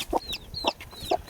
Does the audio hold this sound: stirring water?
no